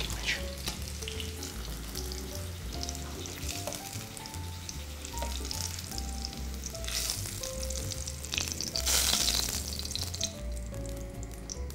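Zucchini slices fry in hot oil in a pan, giving a steady, dense sizzle throughout, with occasional stirring noises and a brief louder burst near the end.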